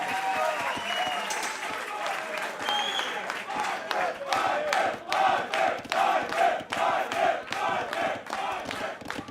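A live audience at an Age of Empires 2 LAN quarter-final cheers and applauds in a steady, dense roar, with shouts and claps rising in bursts over nearly ten seconds, loud and continuous.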